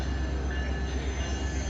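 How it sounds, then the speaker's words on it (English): A tour train in Whittier, Alaska rolls past with a steady low rumble and a faint wheel squeal, close and constant, with no talking. "Here comes the tour train."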